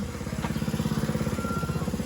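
A small engine-driven water pump chugs steadily close by, its rapid even pulsing throbbing without a break.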